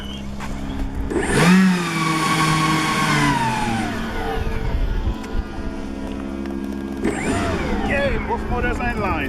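Twin 127mm electric ducted fan motors on a large remote-control MiG-31 jet whine up together with rising, sweeping pitch on the maiden flight, loud and close, dipping and swelling again near the end while people talk nearby.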